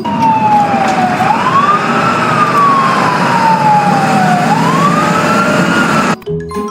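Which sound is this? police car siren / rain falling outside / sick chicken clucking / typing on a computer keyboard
police car siren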